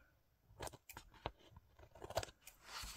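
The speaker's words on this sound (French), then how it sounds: "Je coupe le scotch qui dépasse." Quiet, close snips of scissors cutting through adhesive tape on a scrapbooking folio, several short crisp cuts in an irregular rhythm.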